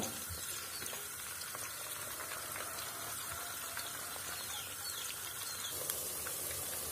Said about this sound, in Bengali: আমার চিকেনগুলো ভাজা হয়ে গেছে